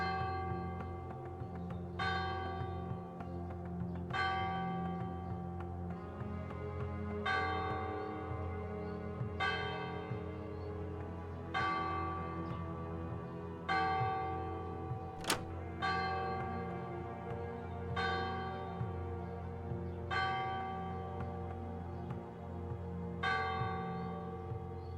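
Church bells ring steadily in a video game, a series of regularly spaced strikes every couple of seconds, each blooming into a rich sustained metallic tone over a continuous low hum.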